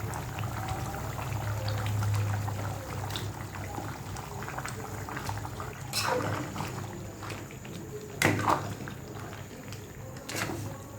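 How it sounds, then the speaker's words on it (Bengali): Raw jackfruit going into a cooking pot, with a steady bubbling sizzle throughout and a few brief louder splashes and clatters as pieces drop in. "আমি এখন কাঁচা কাঁঠাল দিয়ে দিব।"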